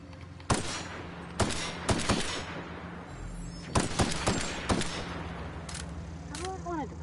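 Gunfire in The Outer Worlds: sharp single shots and quick bursts crack out at irregular intervals over a low mechanical hum, with a brief metallic electronic whine near the end; no voices intrude.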